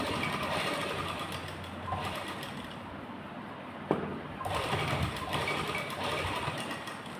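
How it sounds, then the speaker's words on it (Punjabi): A sewing machine stitches lace onto fabric in steady, moderately quiet whirring bursts, pausing briefly midway before running again, with no talk over it. "ਇਸ ਤਰ੍ਹਾਂ ਸਲਾਈ ਲਾ ਦੇਣੀ ਹੈ"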